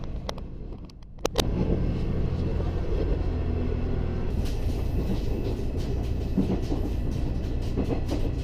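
A train on the Ofunato Line in Japan, heard from inside as a steady low rumble and wheel roar, with a few sharp clicks early on before the noise settles into a continuous hum.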